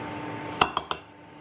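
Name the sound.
mixing crema with cayenne and paprika in a small bowl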